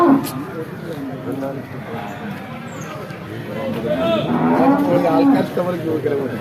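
A water buffalo moos loudly nearby at a livestock market, long low bellowing calls, with people talking in the background.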